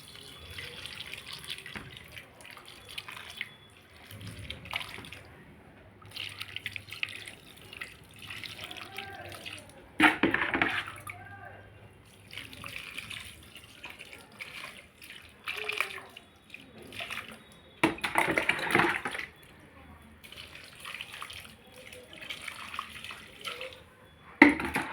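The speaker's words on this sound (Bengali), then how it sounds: "এরপর আমি এগুলোকে ভরপুর মাত্রায় জল দিয়ে দেবো" Water poured generously over freshly planted plants, a steady splashing and trickling stream that swells and fades with brief louder gushes, close by and continuing for a long stretch.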